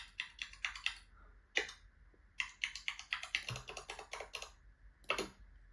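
Mac app sound effect imitating a secretary's old-style keyboard, heard as bursts of crisp, close key clicks in quick rhythmic runs separated by short pauses, with no one talking.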